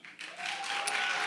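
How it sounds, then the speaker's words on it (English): A brief burst of audience applause for speakers at a community church finance summit, rising quickly and holding steady, with dense clapping from a crowd. "one more round of applause for all the early speakers as well"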